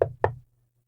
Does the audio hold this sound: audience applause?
no